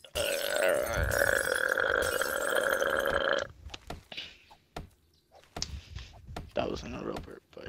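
A voice imitates a long, loud, droning burp for about three seconds during a night session of the zombie survival game 7 Days to Die, followed by quieter scattered clatter and talk.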